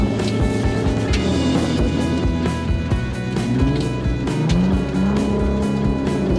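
Old pickup converted into a monster truck climbing a hill on a rough unpaved road with holes and stones, its engine loud and close, labouring and revving with wavering pitch and jolting knocks.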